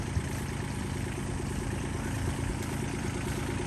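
A warmed-up diesel tractor engine idles steadily on a cold day, a low continuous rumble with an even throb that holds at one level, close by and with no voices.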